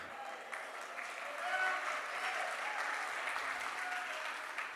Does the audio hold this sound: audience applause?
yes